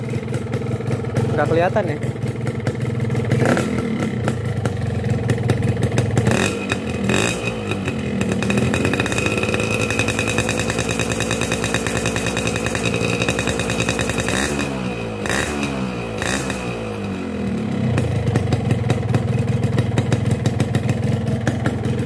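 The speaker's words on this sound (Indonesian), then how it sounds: "coba kita geber dikit ya, dikit-dikit aja," A Mesrania Super 2T two-stroke motorcycle engine, freshly started and running rich, idles raspily up close and is revved in several short blips, its pitch rising and falling, while someone talks over it.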